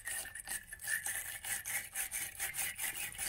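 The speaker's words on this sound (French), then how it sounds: "On va venir ici frotter." Rhythmic scrubbing on a car battery terminal, cleaning the contact during a battery change; a steady back-and-forth rasping with regular strokes about every quarter second, close and moderately loud, with no talking.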